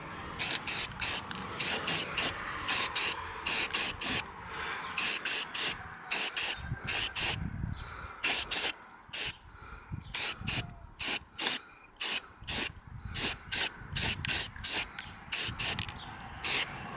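Spray paint and clear coat hissing onto a plastic truck grill in many short, sharp bursts, some clustered in quick pairs, loud and close with a faint background murmur.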